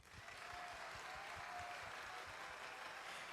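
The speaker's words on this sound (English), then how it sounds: "please clap for them" An audience claps for presenters at an entrepreneurship event, a steady patter of applause from a modest crowd heard at a distance and fairly faint.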